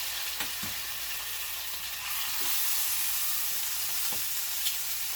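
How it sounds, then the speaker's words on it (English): Chicken sizzles and crackles steadily in a hot pan, a constant hiss with occasional pops, close by and with no talking. "this chicken's been frying now for 5 minutes, so I'm going to flip it over"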